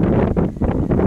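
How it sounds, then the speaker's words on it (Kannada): Strong wind buffeting the microphone on a building rooftop by a racing pigeon loft, a loud continuous low rumble with brief gusting dips throughout. "ಜಾಸ್ತಿ ಗಾಳಿ ಇದೆ"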